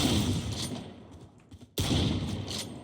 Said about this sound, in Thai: ดาเมจอันนี้มันเยอะดีเลย แต่มันยิงได้แค่2นัด แล้วต้องรีโหลด